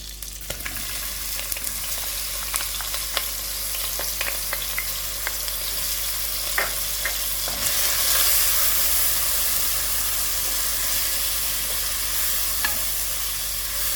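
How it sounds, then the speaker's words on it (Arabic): Chopped onion frying in margarine in a pan, a steady close sizzle with small pops and crackles throughout, brightening a little partway through, with no voices. "دركا كيتقلى البصل وذبال شويه"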